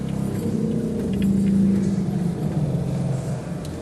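Deep, sustained low notes from a cathedral pipe organ at Salisbury Cathedral, a steady rumbling drone with a brief brighter tone swelling in the middle, played alone and fairly loud.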